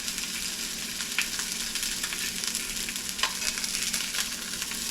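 Speckled trout fillet frying in a hot pan with blackened seasoning, a steady close sizzle and crackle with occasional sharper pops, no talking.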